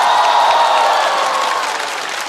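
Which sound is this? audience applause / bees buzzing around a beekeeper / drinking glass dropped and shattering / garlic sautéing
audience applause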